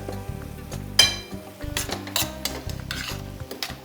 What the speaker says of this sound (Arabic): هذا راه يتقلى من الجهه، شوفوه